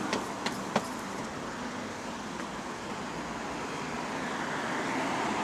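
A car engine idles steadily with a continuous low drone, a few brief sharp clicks near the start, and the level swells slightly toward the end as the throttle is pressed and released.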